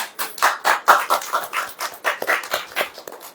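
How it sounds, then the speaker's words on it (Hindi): Hands clap in an irregular patter at a religious sermon gathering, a modest burst of close, scattered claps lasting a few seconds. "ताली वाली बजाओ यार।"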